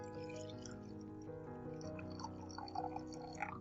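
Matcha tea mixed with hot water is poured into a cup, a faint, continuous liquid pour with small drips and splashes toward the end, with no voices.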